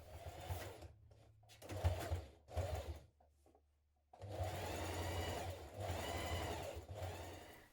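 Sewing machine top stitching through all layers of a backpack, running in several loud bursts with short pauses between them, then a longer steady run near the end.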